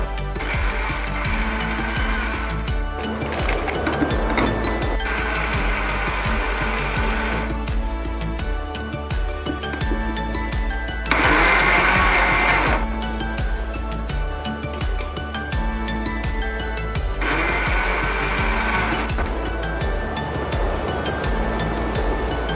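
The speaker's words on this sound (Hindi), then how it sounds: "और हम अब हमारे मिक्सी को चला के इसका बारीक पाउडर बना लेंगे।" A mixer grinder grinding biscuits and sugar into powder, whirring loudly in several bursts, its motor pitch rising and falling between runs, with faint rattling of contents inside.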